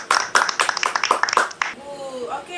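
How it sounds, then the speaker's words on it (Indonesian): Applause in a classroom during a microteaching session on bank reconciliation: a short burst of several hands clapping nearby for about two seconds, then fading out as voices start talking. "Kita berikan tepuk tangan."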